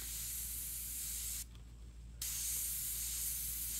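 An airbrush sprays paint in a steady, close hiss that drops away for a moment and then resumes, slightly stronger, with no talking.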